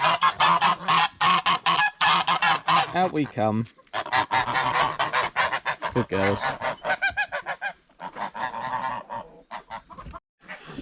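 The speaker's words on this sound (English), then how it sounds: "Come on, geese," A flock of geese honks loudly and continuously as they are let out of their pen on a farm, overlapping calls crowding close to the microphone, with a person speaking briefly over them.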